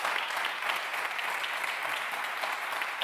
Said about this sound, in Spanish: os voy a pedir un fortísimo aplauso, por favor, para estos cinco grandes campeones